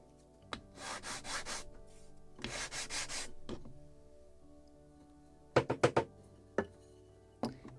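Walnut being sanded by hand for a Model Shipways kit of the 1776 gunboat Philadelphia: two longer bursts of steady rubbing strokes, then a quick series of short sharp scrapes and taps, close and fairly quiet.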